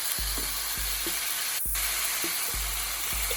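Onion sizzles in a hot pan while cooking a Thanksgiving broth, a constant close crackling hiss with regular low thumps about every half second and a brief sharp burst midway.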